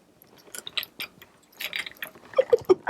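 A craft die-cutting machine is hand-cranked backwards while making baby room decor, giving a run of soft gear and ratchet clicks that ends in three louder, evenly spaced clicks. No one speaks.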